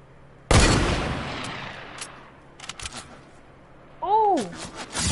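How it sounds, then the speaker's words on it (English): Gunfire in an online video game: a sudden loud shot burst that rings and decays, a few scattered later pops, then a player's exclamation near the end. "Dang, why are they trying to shoot at me?"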